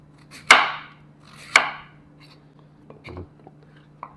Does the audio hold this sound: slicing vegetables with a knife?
yes